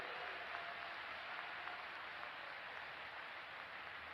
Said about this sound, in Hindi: बजाओ ताली जोर से मनीष के लिए।